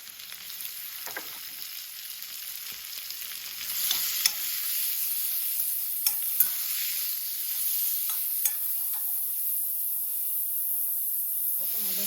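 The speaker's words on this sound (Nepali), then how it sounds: "मजाले पाक्ने गरी फ्राई गर्नु।" Keema noodles stir-fried in a pan give a steady close sizzle and hiss, broken by frequent scraping stir strokes and light clatter, with no voices.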